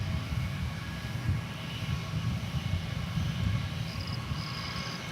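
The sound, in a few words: American Airlines Airbus A321 on final approach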